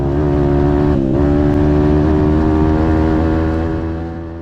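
Engine at full throttle on a dirt trail during a kart versus dirt bike race, a loud, close, sustained droning roar with strong steady harmonics, a brief dip in pitch near one second, then holding wide open before easing off at the end.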